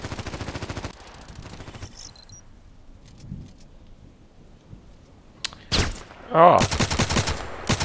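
Gunshots in the online shooter Contract Wars: a dense burst of rapid automatic fire at the start, a long quiet stretch, then loud sharp shots returning near the end with a brief shout among them.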